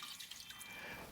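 Water for a wild duck stifado is poured into a pot in a kitchen, a faint, short trickling splash alone for about a second.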